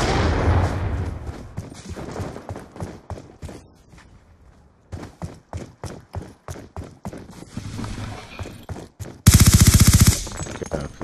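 Rapid bursts of automatic gunfire in a first-person shooter video game, loud and close, with rhythmic repeated shots broken by short pauses, ending in a dense, intense volley.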